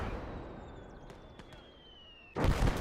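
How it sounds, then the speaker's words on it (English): A mortar blast in the Gates of Hell video game, Operation Cobra campaign, crashes in suddenly and loud near the end after a quieter stretch with a faint whistling tone and a few distant pops. "Mortar's going nuts trying to kill that guy."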